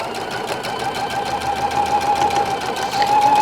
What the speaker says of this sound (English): we are going to sew again at a 1/4 inch here down the one side